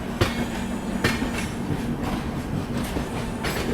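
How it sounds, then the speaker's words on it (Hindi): Vande Bharat Express arriving alongside at Chennai Central station, a steady rumble of rolling railcars with rhythmic wheel clatter and a low mechanical hum, heard close from an adjacent train. "बगल में Vijayawada Chennai central Vande Bharat express arrive हो रही"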